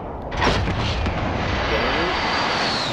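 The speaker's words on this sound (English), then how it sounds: "Allied precision airstrike in." Jet aircraft roaring overhead during an allied precision airstrike in Call of Duty: Modern Warfare, a loud broadband rush swelling near the half-second mark and sustained to the end, with a voice talking underneath.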